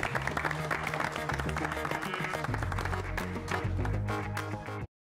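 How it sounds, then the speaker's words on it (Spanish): Studio audience applause on the Colombian TV program ¿Qué ha pasado? on Telemedellín, a steady wash of clapping blended with loud music for about five seconds before cutting to silence. "Muy bien, un aplauso para ellos."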